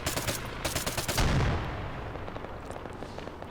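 Gunfire from a VSS Vintorez rifle in the Arma 3 video game, heard as rapid repeated shots with a heavier boom near the middle that fades into a long rolling echo.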